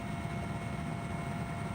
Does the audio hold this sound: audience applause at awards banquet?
no